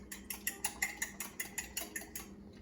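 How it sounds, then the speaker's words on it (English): Fresh, firm egg yolks being stabbed one by one with a utensil to break them apart, giving a steady series of about a dozen light clinks and taps close up, with no talking. "you almost have to stab each individual yolk to get them to break apart"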